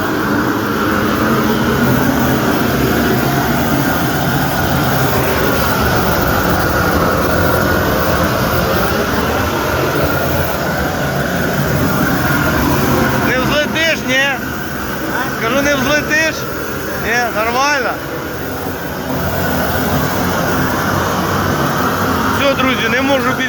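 A gas burner roars steadily while singeing a slaughtered pig at a farmyard, a loud continuous rushing hiss throughout, with someone talking briefly over it partway through.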